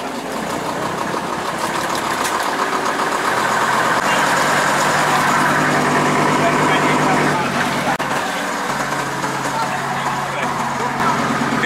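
A retro omnibus engine runs with a loud, steady rumbling drone heard from on board in Birmingham, with a shift in pitch near the end; voices are faintly present under it.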